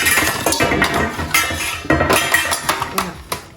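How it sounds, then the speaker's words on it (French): Lamb colombo being mixed in a pot, with repeated clinks and scrapes of a spoon against the metal in an uneven rhythm, close and fairly loud, with a little voice in the background. "Maintenant, je vais procéder à mélanger."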